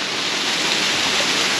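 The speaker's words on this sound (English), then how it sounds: "I love these waterfalls" A mountain waterfall along the Annapurna Circuit trek roars in a steady, loud, broadband rush of falling water that holds unchanged throughout, with no voices over it.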